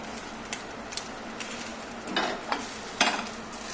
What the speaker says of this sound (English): hot pan, cold oil, put your prawn in